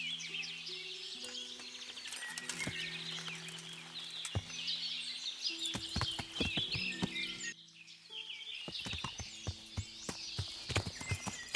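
Pi the horse walks along a road in a video game, its hooves clip-clopping in a steady, irregular rhythm over chirping birdsong, with one brief dip in the middle.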